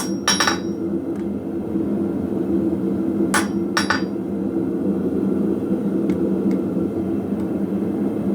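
A blacksmith hammers metal on an anvil to straighten a rivet tool: a few sharp, ringing strikes, some in quick pairs, then fainter taps, all over a steady low rumble.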